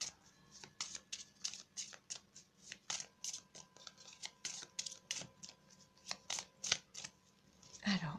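Tarot cards being shuffled by hand close up, quick repeated flicks and riffles coming in irregular bursts, fairly quiet, with a voice briefly speaking near the end.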